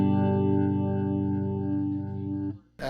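Electric guitar chord played through a rotary speaker effect, a sustained organ-like tone with a pulsing, swirling churn that fades out before a short new attack.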